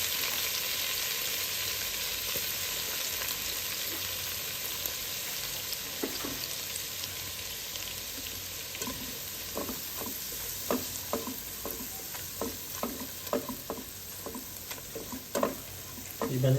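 Chopped onions and coriander fry in a pan for pav bhaji. A soft hiss holds through the first half, then a spoon scrapes and taps in a quickening series of clicks over the sizzle. No speech.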